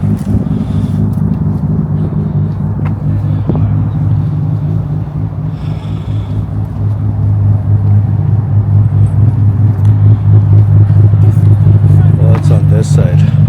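A modified JDM car fitted with an HKS exhaust rumbles nearby with a deep, steady drone that swells louder toward the end as it moves, while a person talks over it.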